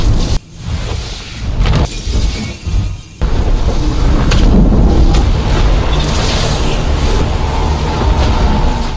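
A loud, rolling rumble of thunder with cracking bursts, sustained and close, filling the space without any voices.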